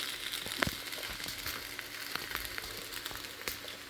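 Wheat dosa cooks on a hot pan with a soft, steady sizzle and scattered small crackles, fairly faint and close, with no one talking.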